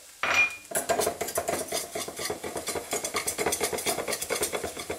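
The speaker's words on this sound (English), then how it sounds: "Now all you have to do is just mix it all together." A utensil stirs minced garlic and ginger in a pan, beginning with a sharp scrape and then settling into a steady rhythm of quick metallic scrapes and clinks, loud and close.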